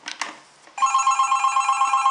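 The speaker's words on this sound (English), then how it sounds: "Always wait for the second ring, or third." A telephone rings steadily and loudly after a brief pause, a continuous electronic bell tone following a couple of short clicks and rustles at the start, with no talking.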